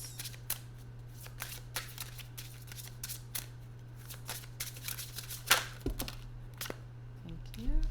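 Tarot cards shuffled by hand at close range, a rapid series of crisp riffling snaps and soft slides with a few louder flicks, over a steady low hum, with no one speaking.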